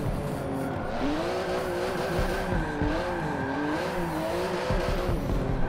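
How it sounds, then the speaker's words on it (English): A race car in Forza Motorsport 7, driven on a wheel, slides through a corner in second gear with a continuous wavering engine drone and tire squeal, loud and close, with no talking. "I'm gonna go ahead and try to slide one of these corners"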